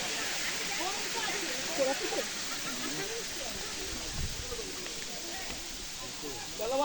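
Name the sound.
hill stream waterfall water flowing down rocks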